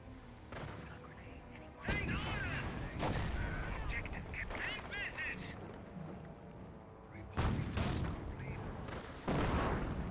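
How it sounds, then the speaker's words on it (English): Two bazooka shots fired in quick succession in Company of Heroes, loud bursts amid ongoing battle noise and explosions, with a commentator's voice talking over the action. "Fired two bazooka shots very quickly"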